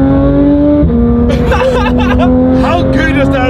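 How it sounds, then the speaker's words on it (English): Modified Porsche GT3 engine, a loud sustained tone that steps up in pitch as it revs, heard from inside the car, with excited voices talking over it. "How good is that sound? Porsches are the best car."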